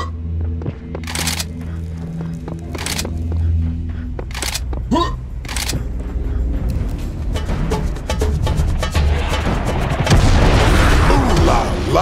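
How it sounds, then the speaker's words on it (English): Heavy cannon in the Serious Sam 3 BFE game firing repeatedly, sharp loud booms spaced a second or two apart over a busy, continuous din of game effects and gunfire. "nothing says stopping power like a portable cannon"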